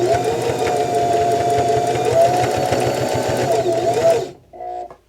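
A sewing machine stitches steadily on folded scrap fabric, a close, continuous, even mechanical whir that stops abruptly near the end, followed by a short quieter mechanical sound.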